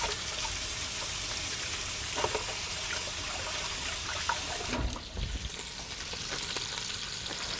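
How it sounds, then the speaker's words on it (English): Hands washed under a running kitchen tap while cooking a bratwurst and beer chili, giving a steady, close rush of water that shifts briefly midway as the hands move through the stream. "I'm going to give my hands a wash here."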